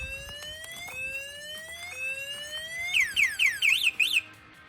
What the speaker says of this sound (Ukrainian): якраз сигналізація вже включилася наповну, тому що маніпуляції були більш відчутні